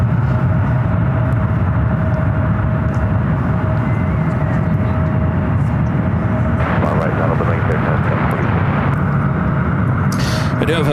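Air Canada Airbus jet departing San Francisco International for Toronto, a constant loud engine roar with a steady whine running through it, while people talk over the noise.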